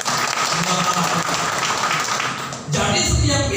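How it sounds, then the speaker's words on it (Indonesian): A church congregation at a Tuesday service claps loudly and enthusiastically, a dense roar of hands filling the hall for a few seconds before it drops abruptly and a voice with low rumble cuts in. "Beri tepuk tangan paling meriah."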